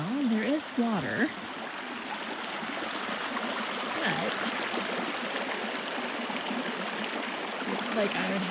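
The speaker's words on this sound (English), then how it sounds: "I hear water, which is promising." Steady rushing of creek water fills the scene, close and continuous, with a few spoken words near the start.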